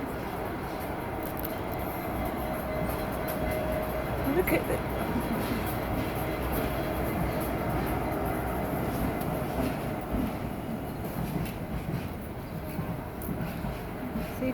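A train rumbles steadily at a railway station in Strood while someone speaks briefly over the continuous low rolling noise.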